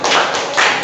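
A classroom group applauds another group during a lesson: a short, dense burst of many hands clapping together, fairly loud and near, lasting under a second without speech.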